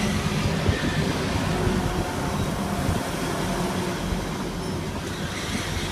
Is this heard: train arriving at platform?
yes